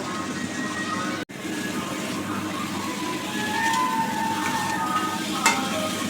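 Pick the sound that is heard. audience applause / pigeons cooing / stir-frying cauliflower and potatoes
stir-frying cauliflower and potatoes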